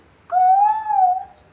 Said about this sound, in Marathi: सगळे मस्त पक्ष्यांचे आवाज येतात